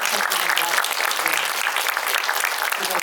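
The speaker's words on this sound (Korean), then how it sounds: "큰 박수" Audience applause at a film talk event following a screening of the Korean film 'Next Sohee', a steady, dense clapping that fills the room without a break.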